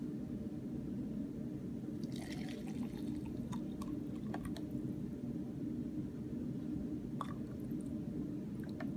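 Water pours steadily into a 1976-1980 general purpose survival food packet holding a chicken soup and gravy base, a continuous liquid rush with a few small splashes and drips.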